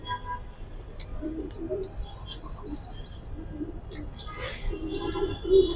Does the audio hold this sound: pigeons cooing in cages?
yes